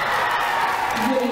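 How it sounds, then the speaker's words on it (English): A school crowd cheers and applauds for a teacher, a loud continuous wash of voices and whoops with clapping blended in, brief and dense. "to you guys a little round of applause"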